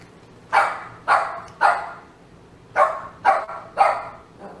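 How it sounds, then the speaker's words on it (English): A dog barks six times, in two groups of three evenly spaced barks separated by a short pause, fairly close and clear. "It's listening to your bloody dog barking."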